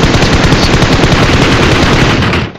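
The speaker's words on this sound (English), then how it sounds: "We got shots by Pachinki again" Automatic gunfire in the video game PUBG Mobile: a loud, dense burst of rapid shots that rattles on continuously for over two seconds before stopping.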